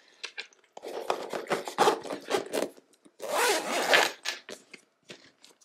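A zipper being drawn shut around a packed travel makeup bag, in a series of short rasping pulls and pauses, then one longer steady zip, close and fairly quiet.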